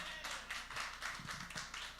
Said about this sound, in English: Y'all can clap for Eden.